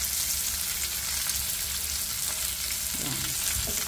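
Carrots and other vegetables, including zucchini, sizzle and crackle steadily while frying in a pan, with a brief stir or scrape of a utensil near the end.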